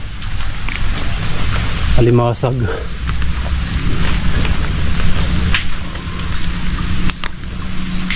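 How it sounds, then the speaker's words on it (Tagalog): Steady rain falls over an abandoned fish pond where mud crab traps are set, a continuous hiss running under a man's speech, with brief louder splashy rustling near the middle. "umuulan na naman"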